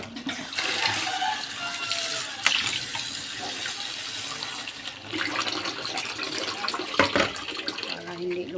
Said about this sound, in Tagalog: Dandagan kaya natin ng tubig.